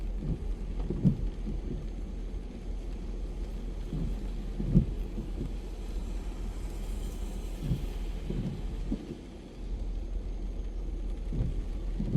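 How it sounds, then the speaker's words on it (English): Steady rain patters on a car windshield close by, with occasional soft, low thumps rising out of a constant wash of drops. "I'm allowing the sounds of the raindrops on the windshield to calm you"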